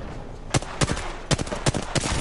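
Sharp, separate gunshots in Apex Legends, about eight cracks in quick irregular succession, some paired, loud and close over a low game background with no talk.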